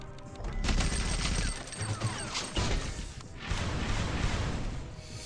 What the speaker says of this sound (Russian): Давай из гранатомета.